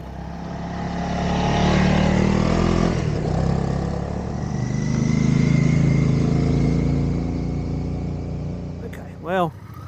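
Motorcycles riding along a sandy bush trail, their engines droning and swelling as they pass nearby, with a brief rising-falling whine near the end.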